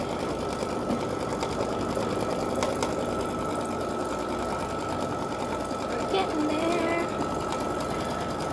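A home embroidery machine stitching an orange fall leaf design runs in a fast, steady mechanical whir throughout, close and continuous, with a faint voice briefly underneath.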